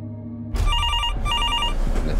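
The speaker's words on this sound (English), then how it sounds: "the phone rings." An old-style telephone bell rings loudly and close, two sharp electric trills separated by a brief pause, after a quiet start with a low hum.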